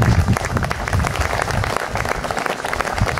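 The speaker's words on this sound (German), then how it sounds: "Und einen ordentlichen Beifall." Applause at a shooting club festival: a dense, loud crowd clapping that stays steady and close for the whole stretch, with a few voices mixed in.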